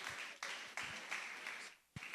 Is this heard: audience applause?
yes